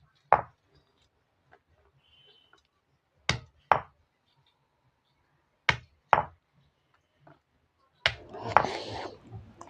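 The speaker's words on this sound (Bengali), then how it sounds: "একবার করে ধরে এরকম করে মারলে ফেটে যাবে" Jujube fruits are cracked open by striking them, giving six sharp, close knocks, mostly in quick pairs with pauses between, then a short burst of rustling and scraping.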